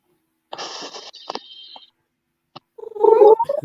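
A small kitten gives short purring, hissy bursts and a brief meow-like cry up close, with quiet gaps between the sounds and no talk over them.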